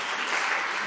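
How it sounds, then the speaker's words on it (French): Audience clapping at a school quiz contest semifinal between two high schools, a brief burst of dense, steady applause from a crowd, fairly close and loud. "on les applaudit, s'il vous plaît"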